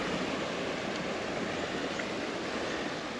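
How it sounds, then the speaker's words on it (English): Steady broadband wash of sea surf on the Cornish shore between Newlyn and Lamorna Cove, a constant rushing roar with no distinct breaks, heard alone without voices. "Amazing, just listening to that sea"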